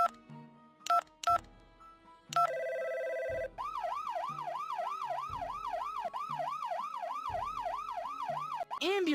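A quick run of phone keypad tones is followed by a loud ambulance siren that wails up and down steadily, ending with an abrupt electronic chirp.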